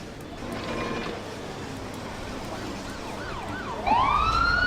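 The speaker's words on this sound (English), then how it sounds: "And our ambulance is arriving to the medical call." A wailing ambulance siren in the Emergency 4 video game with the L.A. 2.0 mod rises in over a low engine rumble and grows suddenly loud and close near the end.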